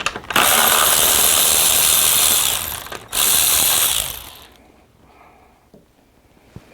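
Ratchet wrench undoing bolts on an Audi Q7 charge cooler tube, a loud close rapid ratcheting buzz in two long runs separated by a short break, then quiet handling.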